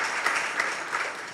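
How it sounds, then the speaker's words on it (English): A seated audience at a talk gives a short round of applause, steady and moderately loud. "round of applause, I would say."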